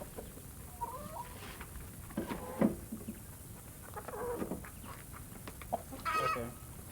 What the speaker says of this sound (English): Look at those chickens, Bo.